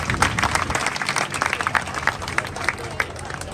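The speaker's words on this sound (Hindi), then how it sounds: "पीजीआई के साथियों के लिए भी एक बार जोरदार तालियां" Brief burst of crowd clapping at a staff association meeting in Sonipat, with a few sharp distinct claps over a general background din.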